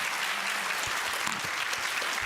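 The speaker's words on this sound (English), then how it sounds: "can you join me to give our very distinguished speakers a round of applause?" Audience applause at a symposium on diversity and inclusion, a steady wash of clapping from a seated crowd for the speakers, fairly distant and even throughout with no talk over it.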